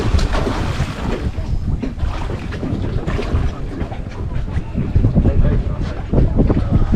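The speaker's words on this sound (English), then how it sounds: "The wind is strong." Strong wind buffets the microphone at a sailboat mooring on the Croatian coast near Kaprije, Šibenik, a continuous loud roar with gusts and sloshing water throughout.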